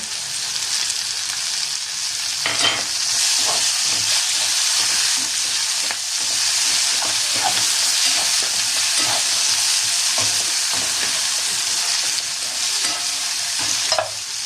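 Onion paste frying in a pan on top of already-browned ginger-garlic paste for a roasted aubergine bharit. Loud, close sizzling runs throughout, broken by repeated scraping and stirring strokes.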